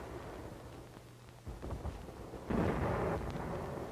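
Artillery firing on the town of Garapan, Saipan, during the WWII battle: a deep rumbling boom erupts at about the midpoint, followed by a louder, sustained roaring blast, with low background rumble throughout.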